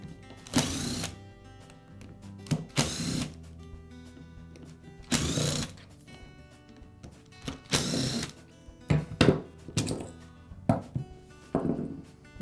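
Screws being removed from the gearbox housing of a Makita angle grinder during bearing repair: several separate bursts of short screwdriver-driven whirring and mechanical clicks, close and fairly loud, with small tool handling noises between them.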